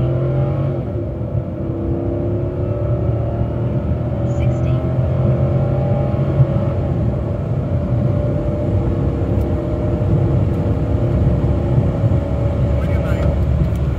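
A Chrysler 300C with a 5.7L HEMI V8 running on E85 accelerates hard with some wheel spin, giving a loud, steady engine roar that holds throughout, with no voices heard.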